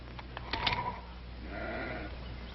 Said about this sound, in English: I'll get my sheep out of here come morning.